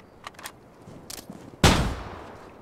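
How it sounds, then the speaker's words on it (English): A flashbang grenade detonates in a multiplayer shooter game, a loud sudden bang with a decaying ringing tail, preceded by scattered quieter gunshots and footsteps. "That was a flashbang."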